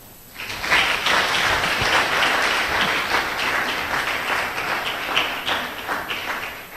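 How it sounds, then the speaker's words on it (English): An audience at a church youth conference bursts into sustained, dense applause, loud and close, a steady wash of many hands clapping that holds for several seconds without any voices on top. "you've already done the clap, so please, let's do it better"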